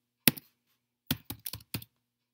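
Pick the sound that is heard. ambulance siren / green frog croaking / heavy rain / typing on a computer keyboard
typing on a computer keyboard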